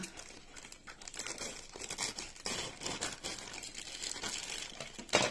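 Plastic parcel wrapping crinkles and tears close up as a package is opened by hand, a steady run of rustling and ripping with no talk.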